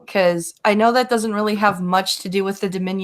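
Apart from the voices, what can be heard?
No distinct noise like a dog, phone or traffic.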